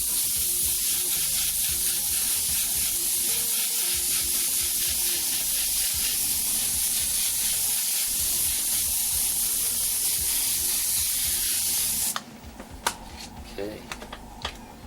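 An airbrush sprays white paint in a continuous hiss that stops abruptly near the end, followed by a few small clicks and handling noises.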